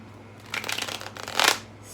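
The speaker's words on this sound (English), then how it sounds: "Give it a little shuffle." A tarot deck is riffled and shuffled in two quick close bursts of papery card flutter, with nobody speaking.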